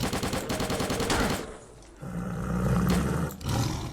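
A Snork mutant snarls and roars in the video game Stalker: The Way to Pripyat, mixed with rapid close automatic gunfire in loud bursts, a short lull, then more roaring and shots.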